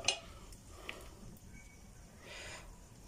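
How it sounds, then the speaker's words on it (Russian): A metal spoon clinks against a soup pot a few times while skimming foam, quiet and close, followed by soft scraping and liquid sounds. "Пенку я обычно снимаю просто в кастрюльку."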